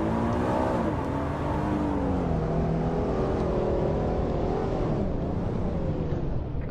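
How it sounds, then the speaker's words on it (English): Engine of a vehicle cruising on a California highway, a steady low drone heard from inside the car, with a rising and falling hum throughout. "So that engine on the highway."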